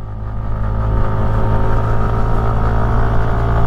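A stock Kymco SkyTown 150 scooter engine pulling away from a stop on an uphill, a loud, smooth, steady hum that rises slightly in pitch as it accelerates.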